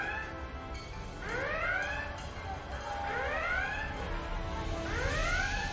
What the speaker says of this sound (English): Roter Alarm. Red alert.